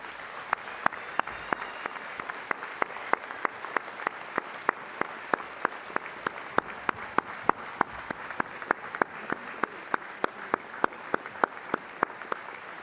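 Graduates at a Flinders University College of Medicine and Public Health graduation ceremony applaud their families and friends, a sustained wash of clapping with sharp individual claps standing out, filling a large hall without speech.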